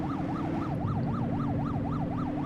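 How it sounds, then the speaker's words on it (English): Police car siren in The Precinct video game, a loud wailing up-and-down sweep cycling rapidly and steadily over engine rumble, with no talking. "Let's shift toggle our siren."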